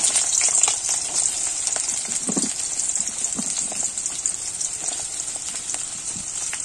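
Onion frying in hot oil with bay leaf, stirred now and then: a steady bright hiss runs throughout, broken by a few soft scraping stir strokes, close and fairly loud with no talking.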